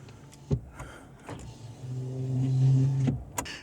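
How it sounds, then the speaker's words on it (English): A midsize pickup truck's powered rear cab window slides open with a steady electric motor whine that builds over a few seconds, framed by soft clicks and a sharper click as it stops. "You also get the powered rear window."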